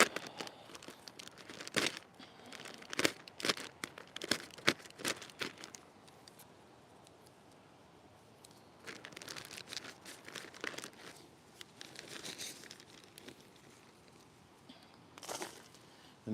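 Cutting open a bag of potting mix in a garden: quiet crinkling and tearing of plastic in a burst of sharp rustles, then softer scattered crunching and shuffling, close but faint.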